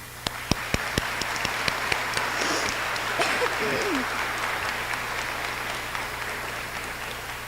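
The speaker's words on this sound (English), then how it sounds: "can we please give a round of applause to all of our teachers and thank them for everything they do" A high school graduation crowd applauds the teachers with steady, broad applause from a large audience, a few sharper claps standing out near the start, and faint voices underneath.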